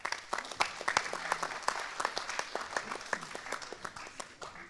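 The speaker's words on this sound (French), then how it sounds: "On peut les applaudir." A live audience applauds startup founders at a startup contest in Lorient, steady dense clapping with sharp individual claps standing out across the whole stretch.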